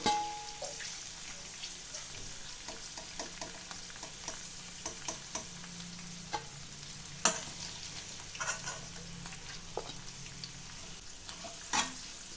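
Mushrooms frying in a pan of oil for roadside kalan, a steady close sizzle with scattered crackles and pops and a few louder spits, no talking.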